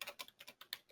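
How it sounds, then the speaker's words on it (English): Quick, light keystrokes on a computer keyboard tap out a rapid, even run of clicks, close and fairly soft, with no voices. "So I'm just going to type it in first."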